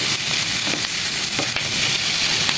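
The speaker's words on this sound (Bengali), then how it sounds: "আমি 2-3 মিনিট এভাবে ভেজে নিব।" Vegetables frying in a pan for a Chinese-style vegetable dish, a steady loud sizzle with occasional stirring scrapes, close and continuous.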